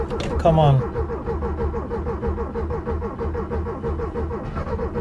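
A Porsche 996 sports car engine cranks and catches, a brief loud burst at the start settling into a steady, throbbing idle close to the microphone.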